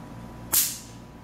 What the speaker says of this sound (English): Don't mind, that was just a bug zapper.